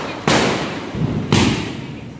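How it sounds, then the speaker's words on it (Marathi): Two loud firecracker bombs explode during Diwali celebrations, about a second apart, each a sharp, close blast followed by a long rumbling decay. "हेट बॉम्ब लावतात आता हे लोक, नित्य आणि सियोग."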